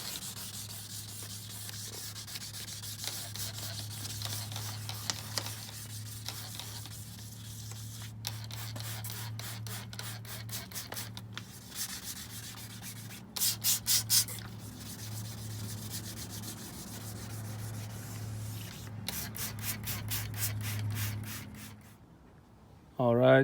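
A car headlight is wet sanded with 2000 grit sandpaper, close, steady rhythmic rubbing strokes in repeated bursts over a low background hum, with brief pauses between passes.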